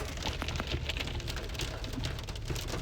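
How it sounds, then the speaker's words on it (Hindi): Heavy rain pours steadily on the road to Nainital, a dense, even hiss of drops with spattering hits and no break and no talking. "चलिए मैं आप सबको बारिश दिखाती हूँ कितना भयंकर हो रहा है।"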